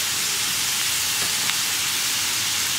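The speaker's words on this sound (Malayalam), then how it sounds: "ഇപ്പോൾ നമ്മുടെ സവാള ഒന്ന് കുക്കായി തുടങ്ങുന്നുണ്ട്" Onions sizzling steadily in a pan for a Kerala hotel-style egg roast, a continuous close hiss of frying with no break and no voices.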